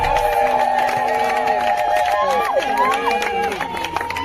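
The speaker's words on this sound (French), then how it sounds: "Applaudissez" Guests at a French-speaking wedding ceremony clap and cheer after the groom's vows, lively applause and ululating voices layered over crowd chatter, loud and close throughout.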